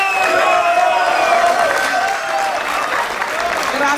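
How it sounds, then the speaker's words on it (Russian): Crowd at a concert in Yaroslavl applauding and cheering as performers walk up, a loud, continuous wash of clapping with whoops and voices mixed throughout. "Хлопаем девочкам, пока они идут."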